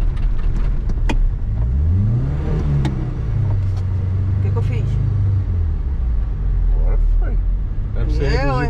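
A car engine rises and falls through a moderate rev under a learner's clutch control in city traffic, audible up close inside the cabin, with people talking over it.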